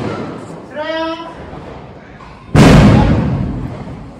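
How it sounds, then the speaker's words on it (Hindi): Diwali firecracker bursting outdoors near a home, a single loud sharp bang followed by a fading rumble, after a brief voice earlier in the moment. "पटाखे उड़ रहे हैं।"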